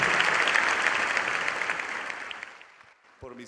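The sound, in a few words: congregation applause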